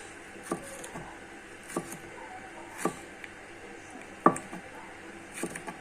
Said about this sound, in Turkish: şimdi şunu doğra bakalım